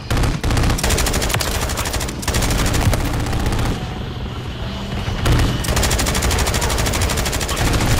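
Heavy turret machine gun fire in the Call of Duty video game: loud, sustained automatic bursts with rapid, closely spaced shots, a short lull in the middle, then another long burst.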